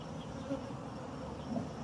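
Wild honey bees buzz steadily and densely around a hive as it is harvested by hand, a close, continuous insect drone with slight swells in loudness.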